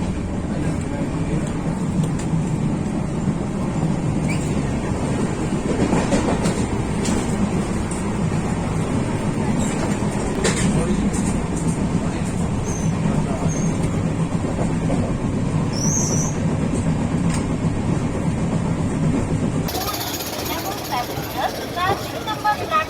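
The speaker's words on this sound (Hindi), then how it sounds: "ट्रेन भुवनेश्वर रेलवे स्टेशन से खुल गई है" A train rolls onward after leaving Bhubaneswar railway station, a continuous, loud rumble and rattle of wheels and carriages that holds steady throughout.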